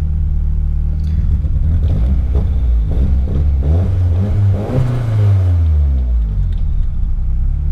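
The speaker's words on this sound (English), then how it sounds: "Now, the car's warmed up, so as per usual." A warmed-up car engine revs outdoors, loud and close, with deep rumbling tones climbing and falling through several throttle sweeps; wind noise runs underneath.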